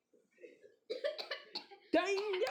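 A person coughs a few times in quick succession, followed by a strained vocal sound, fairly close and quiet overall.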